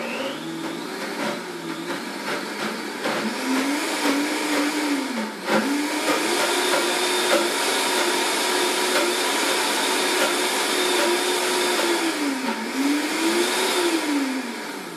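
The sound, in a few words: Vitamix blender blending fat bomb mixture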